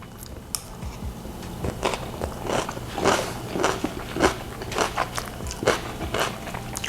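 Repeated crisp crunching bites and chewing, close up, irregular crackly bursts every half second or so over faint background hiss.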